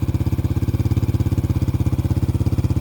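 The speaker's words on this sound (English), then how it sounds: "ride down frozen roads in the middle of winter on a motorcycle" Yamaha TW200 motorcycle on frozen winter roads, its single-cylinder engine thumping in a fast, even pulse, loud and close, with a steady mechanical clatter and no voices.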